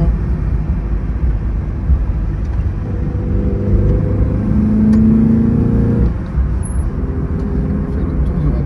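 A 1985 Alfa Romeo 33 1.3S drives around a roundabout, its small engine giving a steady close rumble heard from inside the car, with a brief rise in revs midway before settling again.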